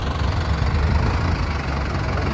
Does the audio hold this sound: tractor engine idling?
yes